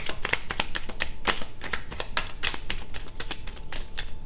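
Tarot cards being shuffled by hand, a run of quick crisp riffling and slapping sounds in an irregular rhythm, close and fairly quiet, with no voices.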